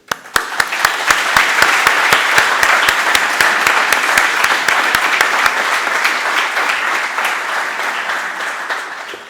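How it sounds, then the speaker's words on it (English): An audience at a football panel event applauds four panelists: a sustained roar of many clapping hands with distinct sharp claps cutting through, loud and steady before gradually thinning toward the end. "They deserve a big round of applause."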